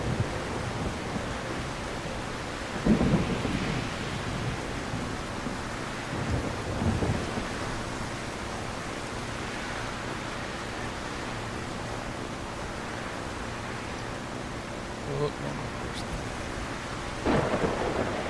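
A rainy thunderstorm in the video game Solarpunk: continuous heavy rain hiss with several deep thunder rumbles rolling in at intervals, loud and enveloping, with no talking.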